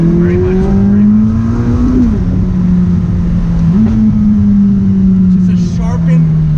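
A 2019 McLaren 600LT sports car holds a steady engine drone through a left-hand bend, its pitch dipping briefly as it shifts, heard from inside the car while people talk over it.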